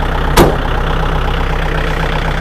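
A 2012 Kubota L4708 farm tractor fitted with a front dozer blade and a disc harrow runs at a loud, steady, close idle, its low chugging continuous, with a single brief knock early on.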